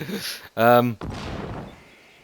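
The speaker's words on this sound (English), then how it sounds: "Artillery at your orders." Artillery fire in the WW2 strategy game Steel Division lands as a short, loud blast with a rumbling decay, coming right after someone talks.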